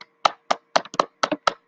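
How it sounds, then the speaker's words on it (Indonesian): A few scattered hand claps in a classroom as a teacher has pupils applaud a classmate, about eight sharp close claps in an uneven rhythm, quick and alone with no talk over them. "Dan juga tepuk tangan untuk kita semua."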